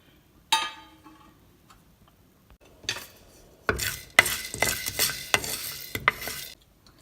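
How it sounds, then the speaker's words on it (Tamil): Spices roasting in a pan for milagu kulambu, stirred now and then: a few sharp isolated scrapes, then a run of close, clattering stirring strokes over a faint sizzle. "கருகாமல் இருக்கிறதுக்கு அப்பப்போ கிண்டி விட்டுக்கிட்டே இருங்க"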